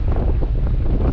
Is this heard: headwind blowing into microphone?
yes